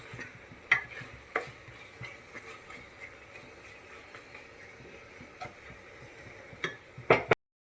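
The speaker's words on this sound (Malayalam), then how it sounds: "ഒന്ന് മിക്സ് ചെയ്ത് കൊടുക്കാം" A spoon scrapes and stirs pulao in a pressure cooker pot after a piece of butter is added, soft steady stirring punctuated by several sharp clinks and knocks, loudest near the end.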